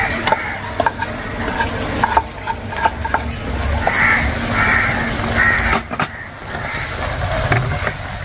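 Sardines frying with chala koorka (Chinese potato) in a hot pan, a steady sizzle with stirring scrapes and clinks close by, while crows caw in the background.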